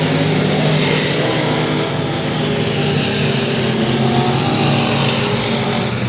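Race cars at 281 Speedway howl past in a dense, loud, continuous roar of several engines at full power, with no voices on top.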